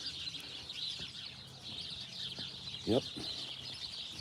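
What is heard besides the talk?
birds chirping and clucking outdoors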